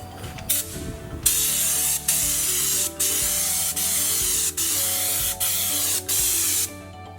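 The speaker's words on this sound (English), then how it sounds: "It just makes it a lot easier to spray it on and get good coverage." A paint spray gun hisses in repeated bursts over a car fender with raised portions, each pass a steady loud spray broken by short pauses as the trigger is released, with faint background hum.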